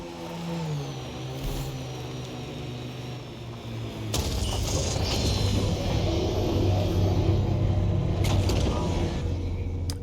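Gunfire in Mass Effect Andromeda strikes and whooshes past a vehicle. Dense, loud crackling bursts and impacts pile over a droning engine and stay heavy until the end, with no talking.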